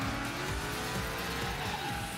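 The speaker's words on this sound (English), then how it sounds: "different sound effects that reflect the power of your car" A race car's engine roars together with squealing tires in the GT Racing video game, one dense, continuous burst of engine noise and skidding that stays loud and unbroken throughout.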